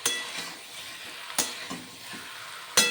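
Sliced tomato added to a pan of frying potato and eggplant: a steady sizzle close by, broken by a few sharp clinks and scrapes of a utensil against the pan.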